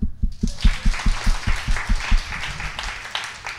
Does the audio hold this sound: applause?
yes